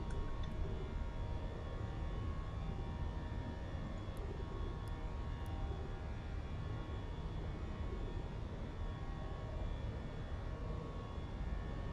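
Inside the cabin of a late-night Spirit Airlines airliner in flight, the jet engines give a constant, even roar that never changes in level, with no talking.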